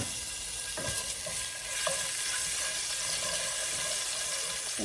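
Garlic frying in a frying pan on a stove, a continuous close sizzle with occasional stirring scrapes and knocks of a utensil.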